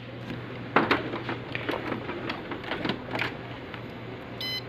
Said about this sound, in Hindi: अभी मैं एक प्रिंट दूंगा।